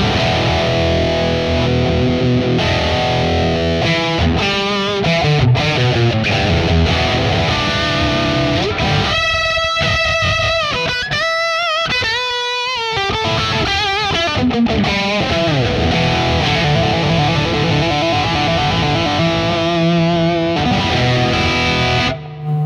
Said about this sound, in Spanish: Veamos con la distorsión que queda, pero mortal.